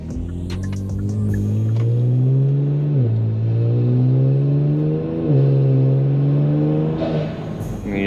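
A car with paddle shifters braking and downshifting into second gear, its engine droning steadily then blipping up in pitch with each downshift, loud and close, a couple of rising rev jumps before settling.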